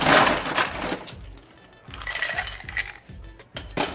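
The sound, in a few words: ice added to cocktail glass, clinking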